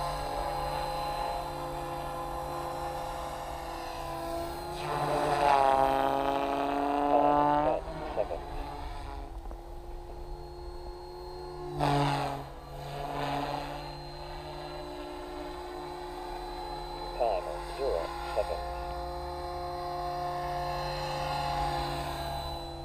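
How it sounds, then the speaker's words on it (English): Goblin 380 RC helicopter flying outdoors in cold winter, its steady high-pitched rotor and motor whine holding for the whole stretch, rising and falling in pitch as it maneuvers, with brief talk partway through. "Otherwise it's a very stable heli."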